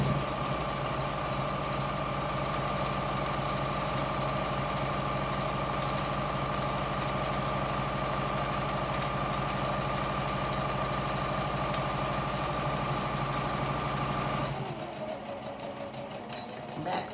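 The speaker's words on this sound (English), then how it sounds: "I'm going to start at 1 pin, and then I'm going to sew all the way down to the other pin." Sewing machine running steadily while stitching a fabric scrunchie, a continuous close mechanical whir and rapid needle chatter for about fourteen seconds before stopping abruptly, leaving quieter room noise.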